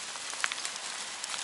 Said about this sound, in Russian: Ребят, дождь идет.